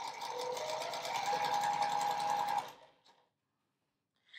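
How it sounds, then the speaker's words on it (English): A domestic sewing machine stitches a quarter-inch seam on quilt fabric, a steady close whirring hum for about two and a half seconds before stopping, followed by near silence and a faint click. "I'm just sewing a 1/4-inch seam along one side with right sides together"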